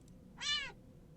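Annoyed domestic cat gives a single short, strained meow, clear and close against a quiet room, lasting about a third of a second.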